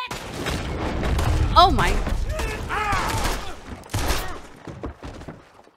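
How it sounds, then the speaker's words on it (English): Gunshots ring out in Red Dead Redemption 2, a couple of sharp cracks amid game ambience and overlapping talk, with a person speaking briefly over the action. "Did he shoot her? I'm pretty sure he shot her."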